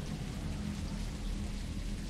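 Steady rain falling indoors in a horror video game, a soft, continuous wash of patter with a low rumbling bed beneath, faint and even throughout without any voices.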